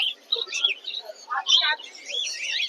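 Pet parakeets chirping and twittering in quick, overlapping bursts, fairly close, at the Mirpur-1 bird market in Dhaka, with no talking.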